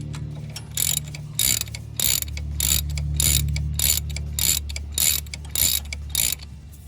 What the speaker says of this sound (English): Tighten it back down.